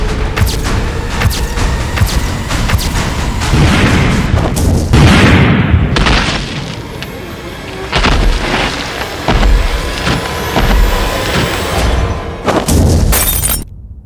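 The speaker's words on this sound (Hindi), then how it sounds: "अब चंद ही मिनटों में ये बिल्डिंग मलबे के ढेर में बदल जाएगी।" A long, loud rumbling series of explosive demolition blasts bringing down a building, with crashing collapse and breaking, shattering debris, rolling on for many seconds before tapering off.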